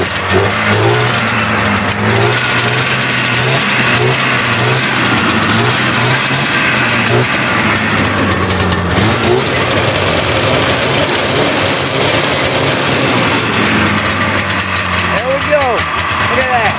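A snowmobile engine is started cold with the choke on, then settles into a steady, loud idle with a few revs, close by. It runs continuously throughout, with no talk over it.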